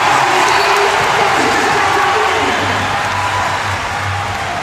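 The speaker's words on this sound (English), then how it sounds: "And listen to the crowd." Arena crowd at a Paralympic wheelchair rugby match in Paris, France against Denmark, roaring and cheering loudly and steadily, a dense sustained wash of noise that eases slightly toward the end.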